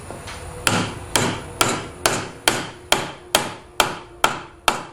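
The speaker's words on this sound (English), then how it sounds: "listen to the noise the wedge makes as it goes in" A hammer drives a wooden wedge into a stool leg ten times in a steady rhythm, each blow sharp and ringing with a short decaying tail, heard up close.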